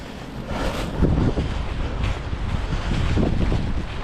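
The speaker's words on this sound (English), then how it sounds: "Can't believe the strength of that wind." Strong gusting wind buffets the microphone outdoors by a park in light rain, a loud, broadband roar that surges and eases in uneven waves throughout, with no talking.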